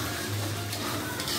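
Salt, sugar and seasoning stirred together in a frying pan while cooking sweet-and-sour fried fish, making a soft, steady scraping and faint sizzle close by with no talking.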